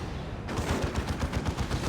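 Rapid, dense burst of heavy automatic fire from a Stormlord super-heavy vehicle's Vulcan Mega Bolter in the Dawn of War 2 strategy game, starting after a brief pause and continuing loud and steady to the end.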